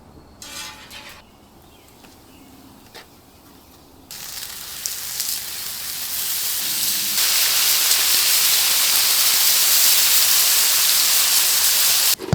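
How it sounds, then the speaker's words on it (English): Bacon sizzling on a griddle cooking breakfast for a crowd, a dense hissing crackle that starts soft, jumps louder partway through and builds to a loud steady sizzle, with a few faint clinks early on. "While that second pack of bacon is cooking"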